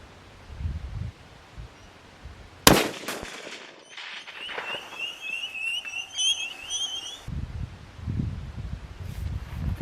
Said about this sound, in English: Now I'll fire it at that.